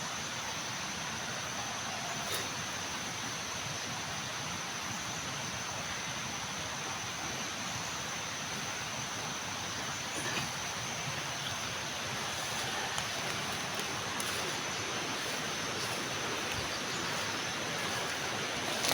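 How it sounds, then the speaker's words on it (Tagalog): River water flows in a steady, even rush that fills the whole stretch, a constant hiss-like wash with no voices and only tiny clicks now and then. "Ito ng ilog."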